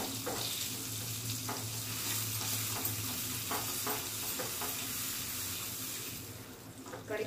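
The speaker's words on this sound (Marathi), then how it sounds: "बटर चांगला गरम झाला की लगेचच तुम्ही गॅस बंद करा आणि त्यात कढीपत्ता टाका" Curry leaves sizzle in hot butter, a steady close hiss with faint stirring clicks over a low hum that fades slightly at the end.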